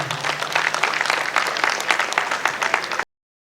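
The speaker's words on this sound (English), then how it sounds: "let's give them a round of applause once again" An audience at a golden jubilee gathering of old boys applauds in a steady, dense round of clapping that continues for about three seconds and then cuts off abruptly.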